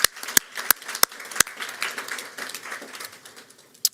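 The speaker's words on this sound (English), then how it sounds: "If we could give them a round of applause." An audience at a Baltimore City Public Schools recognition event claps, a few sharp, distinct claps up front followed by a softer, scattered patter that fades out.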